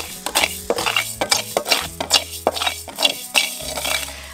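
Utensil scraping and stirring dry rice grains as they toast in a pan, a steady run of light clinks and gritty rattles in quick uneven strokes, close and fairly clear with no talk.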